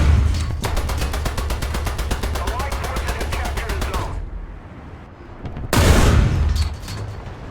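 A Valentine Mk I tank's 2-pounder gun firing in War Thunder, amid a fast rattling burst of automatic fire that stops abruptly, a lull of engine rumble, then a loud blast with a ringing tail.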